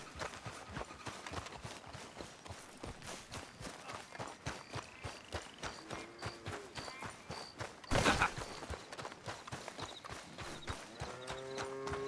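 Donkey hooves clip-clopping in the Red Dead Redemption 2 game, a steady rhythmic run of close hoofbeats on hard ground with a brief louder burst midway, no speech.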